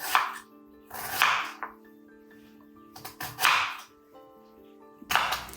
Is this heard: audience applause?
no